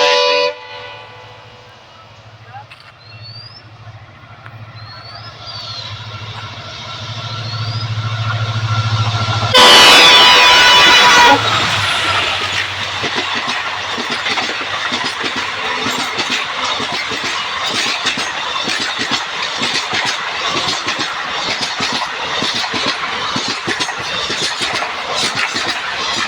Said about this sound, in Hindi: ये देखिए कितना तेज़ी से ट्रेन मेरा बाजू में से गुजारा।